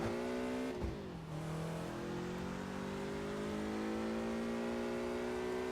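A car drives through a gridlocked city in Test Drive Unlimited on PC, its engine a loud continuous drone that drops sharply once at a shift, then climbs slowly and steadily in pitch as it accelerates, with no talking.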